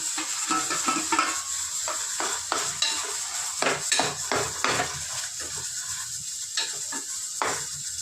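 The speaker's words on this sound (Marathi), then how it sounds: "हे व्यवस्थित परतून घेऊ. हे वांग आहे, हे आपण भाजून आधीच घेतलंय. आता हे आपण याच्यामध्ये मिक्स करू." Roasted eggplant stirred and sautéed in a pan with spices, a continuous soft sizzle under repeated scraping and clinking strokes of a spoon against the pan, close and steady.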